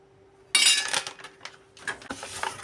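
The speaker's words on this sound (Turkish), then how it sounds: "Tabağımızın içine şöyle bir kaşık kakao koyuyoruz." Metal spoon clinking against a plate as a spoonful of cocoa goes in, a few sharp close taps and scrapes, no talking.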